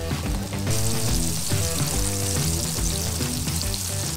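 Flying fish frying in a pan give a steady, dense sizzle that runs unbroken throughout, close and loud, with music playing underneath.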